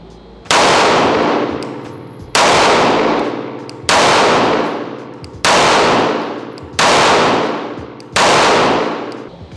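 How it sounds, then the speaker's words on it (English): An Archon Type B pistol fired at a target 7 yards away, with six sharp, loud reports spaced at fairly even intervals of roughly a second and a half, each ringing off briefly. "Let's go ahead and put some rounds through the gun."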